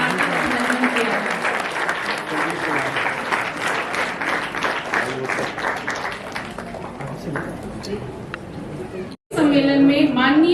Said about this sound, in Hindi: एक बार जोरदार तालियों से केंद्रीय मंत्री का हार्दिक अभिनंदन किया जाए।